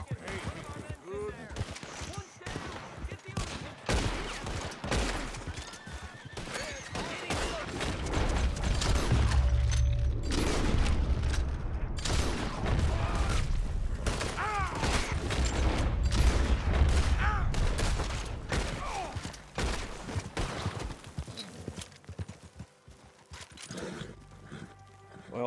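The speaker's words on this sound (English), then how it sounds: "Hearing gunshots." Gunfire rings out in the Red Dead Redemption 2 video game, scattered sharp shots among clattering mechanisms and hoofbeats, with a dense loud burst through the middle.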